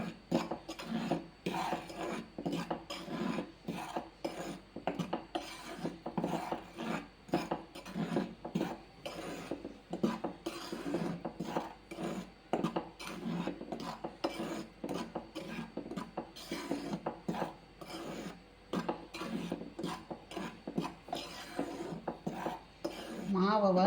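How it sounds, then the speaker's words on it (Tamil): Flour dry-roasted over gentle heat in a pan, stirred steadily: a long run of close, rhythmic scraping and rasping strokes of a spoon against the pan, repeating without pause and with no voices. "இந்த 2 கிண்ண மாவும் ரொம்ப மிதமாக வச்சு நம்ம வறுத்துக்கிறோம்"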